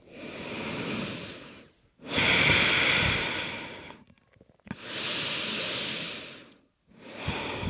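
Slow, deep breaths during a yoga child's pose, forehead resting on the mat: three long, close inhale-exhale swells with short quiet pauses between, steady and fairly loud.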